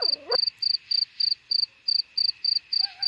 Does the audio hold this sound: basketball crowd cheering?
no